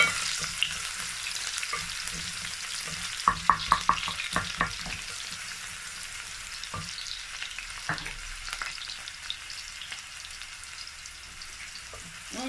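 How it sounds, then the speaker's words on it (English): Diced onions fry in hot oil for efo riro, a steady soft sizzle with a few brief stirring clatters early on, no talking. "This is the remaining half. I'm going to pour it in the oil."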